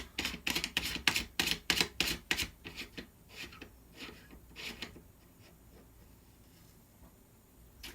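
A flash hider screwed onto the barrel of a G&P gas blowback airsoft M16A4, giving a quick run of close, sharp ratcheting clicks that slows and fades into softer scattered clicks, with no talking.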